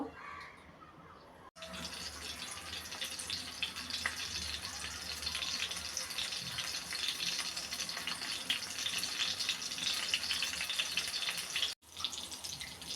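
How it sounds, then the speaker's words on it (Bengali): Small river shrimp fritters coated in rice flour sizzle in hot oil with a steady, dense crackling hiss that runs almost unbroken, dropping out briefly twice. "মেখে ভেজে নিব"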